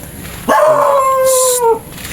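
A dog on a rural village path gives a single loud, drawn-out howl of about a second, close by, with no barking clearly heard and no talking.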